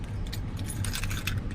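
Car keys for a Toyota Tundra truck jangle briefly up close, a light metallic jingle of a few quick shakes, heard alone over a faint low hum.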